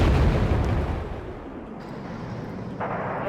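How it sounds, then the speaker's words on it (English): Cluster bombs burst over an invading force in Wargame: Red Dragon, a dense, loud rumble of overlapping low explosions that rolls on steadily, then eases and swells again near the end. "We're trying to hit them with clusters"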